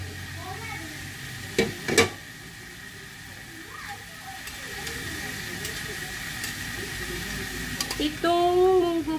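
String beans are tipped into a frying mung bean dish and stirred, a steady sizzle and hiss with a few sharp clatters of utensil against pan, loud and close, with a louder sizzling burst near the end.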